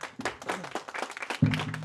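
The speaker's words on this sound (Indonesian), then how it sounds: "tepuk tangan untuk Raden Suarajaya sekali lagi" Audience applause for Raden Suarajaya after a masked-dance (topeng) talk, a burst of clapping from a crowd that swells near the end, with a brief voice-like hum mixed in.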